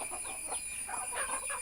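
Hens and chicks of a free-range country breed cluck softly as they come running, with several faint, scattered calls over a quiet background.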